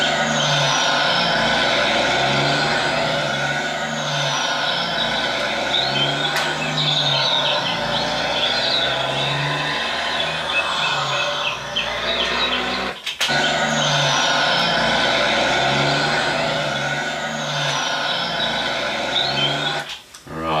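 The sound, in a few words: car engine revving through gear change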